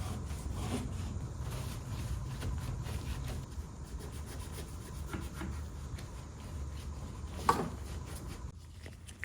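A microfiber cloth with mineral spirits rubs back and forth inside a Volvo 142 engine bay, repeated scrubbing strokes at close range, with a sharp knock near the end and no talking.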